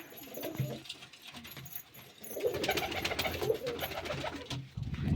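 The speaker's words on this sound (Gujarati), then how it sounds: "આ કબૂતર કોકનું વિતરું હે આપણા ઘરે." Pigeons at a home feeding spot, including an all-white, yellow-eyed bird, coo in low repeated bursts, with the birding sound rising and thickening midway and staying close and fairly loud to the end.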